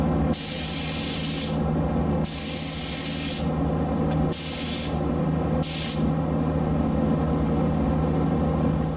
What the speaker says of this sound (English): we wait for this to set and then we rinse